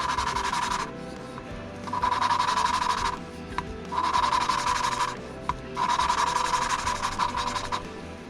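An engine valve from a Yamaha YFM225 Moto 4 being lapped by hand with a suction tool, a gritty rubbing rasp in repeated bursts of about a second each, close and steady, separated by short pauses.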